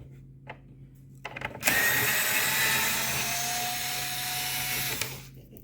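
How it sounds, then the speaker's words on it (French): A power tool with a Torx bit unscrewing a fastener on a Skoda Kodiaq mirror runs in one sustained, loud whirring burst of about three seconds, preceded by a few light clicks of handling. "donc avec notre Torx, on vient dévisser."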